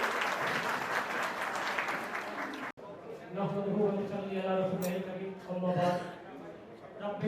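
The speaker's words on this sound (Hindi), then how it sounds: "जोरदार तालियों से इनका स्वागत करिए।" Audience applause at a community education seminar greets a speaker: a dense burst of clapping for under three seconds, cut off sharply, followed by someone speaking over a hall.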